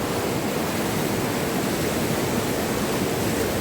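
Floodwater from Cyclone Montha surges across village farm fields, a loud, unbroken broadband roar close by with no voices.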